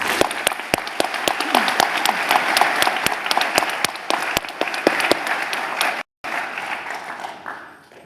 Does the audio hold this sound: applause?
yes